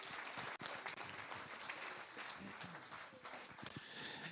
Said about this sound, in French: Et maintenant, on peut les applaudir tous ensemble.